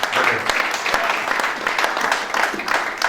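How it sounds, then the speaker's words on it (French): A church congregation at a Sunday service applauds in steady, continuous clapping that fills the room for a few seconds. "Acclame d'abord pour toi-même."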